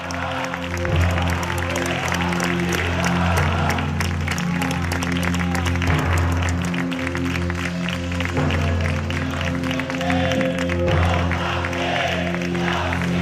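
Dense crowd applause goes on steadily throughout, with a low, constant hum underneath.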